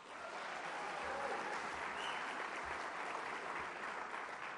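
An audience at a book talk applauds and cheers in a dense, steady burst of clapping that fills the whole stretch at a moderate distance, with no single voice standing out.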